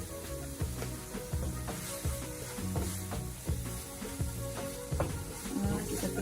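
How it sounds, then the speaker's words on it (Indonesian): Powdered spices for beef rendang sauté in a pan with a steady low sizzle and scraping stirs, while background music plays throughout; no talking. "Tumis sebentar aja ya, supaya tercampur dan wangi"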